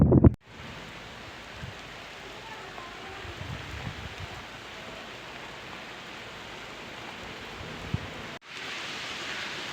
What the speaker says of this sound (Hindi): आज बारिश भी बहुत ज़बरदस्त हुई है